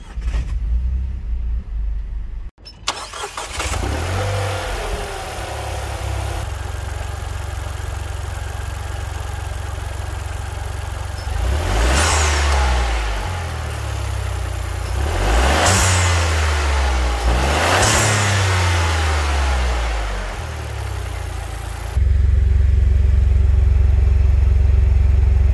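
Dacia Jogger with the 1.0 TCe three-cylinder petrol engine, driving, with a steady mid engine drone and three distinct rising rev surges as it accelerates through the gears, noticeably rough and vibrating; no one speaks.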